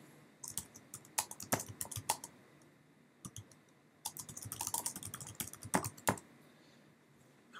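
Quiet, close clatter of fingers on a computer keyboard, with bursts of rapid keystrokes separated by short pauses and no voices.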